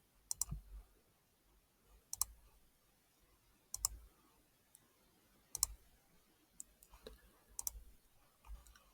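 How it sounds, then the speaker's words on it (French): A computer mouse clicks sharply about eight times at irregular intervals over a quiet, faint room background. "Je clique sur le plus, je rajoute"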